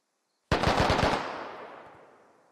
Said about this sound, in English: Lima Bean took a shot at Grunt as Grunt crossed the road here